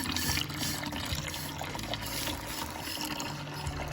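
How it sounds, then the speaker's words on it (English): Hot water pours steadily and splashes into a pan inside a van, a continuous trickling and sloshing with no voices. "Hot water in."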